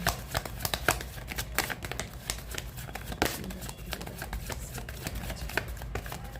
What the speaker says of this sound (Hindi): One more shuffle.